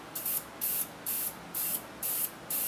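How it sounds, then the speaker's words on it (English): Short bursts of spray from a gun laying down a third Duracoat finish coat, about six evenly spaced hissing passes, close and fairly loud, with brief quiet gaps between them. "I'm now spraying my third coat"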